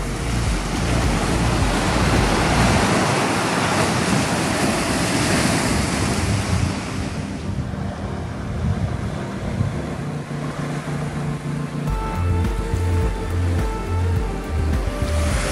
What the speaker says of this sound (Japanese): 結構しっかりサイズもあるうねりが入ってきますね。